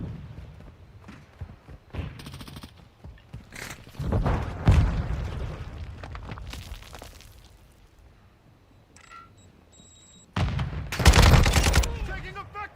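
Gunfire in Call of Duty Modern Warfare II with a Kastov 762 rifle: rapid bursts and single shots crack at irregular intervals, loudest around the middle and near the end, with quieter stretches of game noise between.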